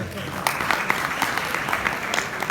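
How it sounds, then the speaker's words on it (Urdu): Audience applause at a Pakistani mushaira poetry gathering, a steady dense wash of clapping from a large crowd with scattered sharper claps throughout. "اپنے لیے تالیاں بجا دیں"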